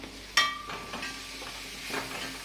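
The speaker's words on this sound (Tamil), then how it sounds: "இதை போட்டு நல்லா வதக்கணும். இது ஃப்ரை ஆகுது." Garam masala and other spices fry in a pan, opening with a sharp metallic scrape and then settling into a steady, close sizzle with soft stirring.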